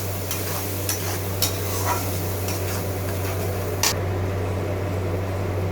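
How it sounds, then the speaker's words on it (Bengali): A paste of tomato, ginger and cashew frying in a pan, giving a dense steady hiss over a constant low hum, with a few faint clicks of a spoon and no voices. "টমেটো পেস্টটা দিয়ে দিলাম, আদা, টমেটো, কাজু বাদাম সব পেস্টটা আমি একসাথে দিয়ে দিলাম। এটা একটু ভেজে নেব।"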